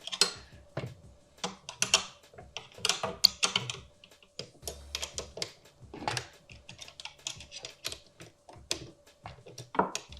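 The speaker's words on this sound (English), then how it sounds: "So use a wrench to help me" Wrench tightening 3D printed rudder pedals, heard as a steady run of close clicking, ticking and tapping with small knocks, continuous and fairly busy throughout.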